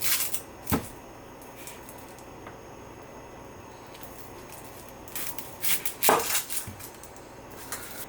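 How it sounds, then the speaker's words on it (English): A knife chopping a large onion on a cutting board: a few sharp, sparse cuts, with a cluster of quicker taps toward the end against a quiet kitchen background. "I will cut one large onion"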